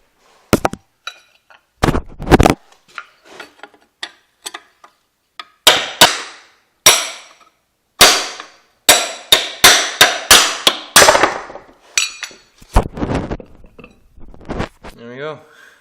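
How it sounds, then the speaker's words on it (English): Sharp metallic hammer blows striking a punch on a Craftsman racing mower, irregular hits in bursts, some rapid runs of strikes with pauses between, close and loud. "I've just been using hammer and a punch."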